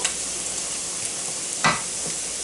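Chicken and vegetable pasta simmering in a creamy sauce in a pan gives a steady soft sizzle, with a brief clink of a stirring utensil near the end.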